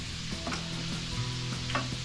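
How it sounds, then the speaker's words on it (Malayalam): Soft, steady sizzle of potatoes frying in a pan for dum aloo, a quiet continuous crackle with a few faint clicks and light stirring noises, no voices. "ഇവിടെ ഇത് വറുത്തുകൊണ്ടിരിക്കുന്നത് നല്ല വറുത്തെടുക്കണം"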